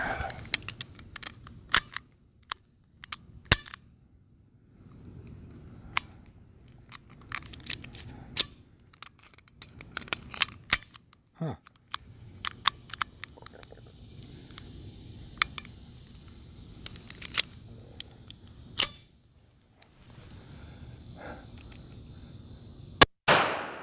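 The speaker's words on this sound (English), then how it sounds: "So first, 2 rounds from the 380." A .380 pistol fires into a 2x6 wooden board, sharp percussive bangs standing out among scattered clicks and handling noises in an otherwise quiet setting.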